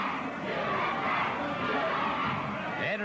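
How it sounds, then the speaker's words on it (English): An arena crowd at a pro wrestling tag match in Japan chants "USA" in support of New Zealander Abe Jacobs. The chanting is dense and continuous, filling the whole moment with a loud collective roar. "you can hear the crowd shouting USA"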